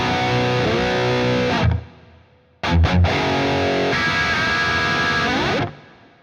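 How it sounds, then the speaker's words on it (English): Distorted electric guitar runs through the rack reverb unit of Archetype: Petrucci X at its default settings. Two sustained, heavily driven chords ring out and decay, separated by a few quick muted stabs, played alone. "move on to the rack reverb unit. Here's how it sounds with all of its default settings."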